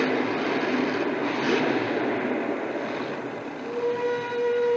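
A long, steady whistle tone from a train carries over a continuous rumbling background at a 1989 USHRA monster truck event in Minneapolis, somewhat distant and sustained throughout.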